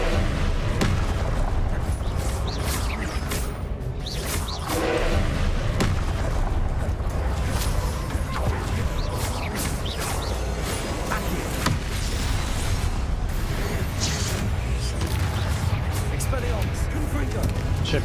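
Repeated booming explosions from an enemy in the video game Hogwarts Legacy, set in the Room of Requirement trial, rumble dense and loud beneath near-constant talking over game audio.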